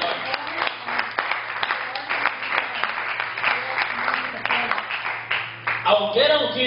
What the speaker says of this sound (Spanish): Dele palmas al Cordero de Dios.